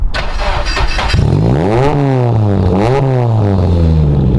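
Nissan S15 Silvia drift car engine cranking and firing up, then revving loudly in repeated rising and falling sweeps, close and dominant with no talk.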